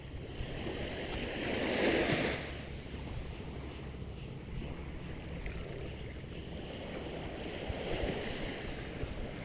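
Seawater and waves wash around a small fishing boat at sea, a continuous broad surging hiss with wind, with a stronger swell early on.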